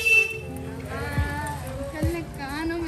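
Vehicle horns honk repeatedly in a busy Kanpur market street, rising and bending in pitch over steady traffic and crowd noise, with voices audible in the background.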